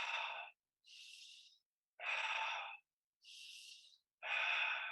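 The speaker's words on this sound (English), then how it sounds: "No pauses between the inhale and the exhale. Nice and relaxed breath." Relaxed breathwork breathing, five slow breaths alternating between inhales and exhales with short gaps between them, close and soft with no talking.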